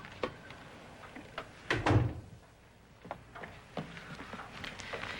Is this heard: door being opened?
yes